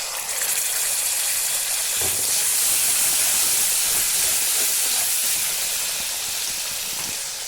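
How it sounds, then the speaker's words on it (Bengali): Yogurt hitting a pan of frying gondhoraj fish curry sets off a loud, close, steady hissing sizzle that holds evenly throughout, with no talking. "তারপর আমি দইটা যে আমি রেখেছিলাম সেই দইটাও আমি এখানে ঢেলে দেব।"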